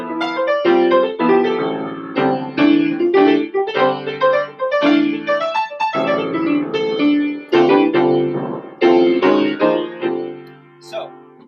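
Solo jazz piano plays a busy run of F pentatonic phrases over open, stacked fourth voicings, notes rising and falling in quick bursts with brief pauses.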